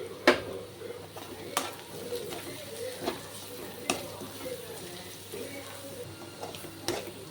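Chilli powder, turmeric and salt sizzle in a hot pan while a spoon scrapes and stirs in steady, repeated strokes, with sharp clinks against the metal.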